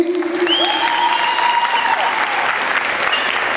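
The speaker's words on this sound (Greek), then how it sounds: "Ένα χειροκρότημα για τη Super Kiki" Applause from the crowd at a Greek stage show in Athens, a steady broadband clatter of many hands that carries on alone. A drawn-out whistle glides over it near the start.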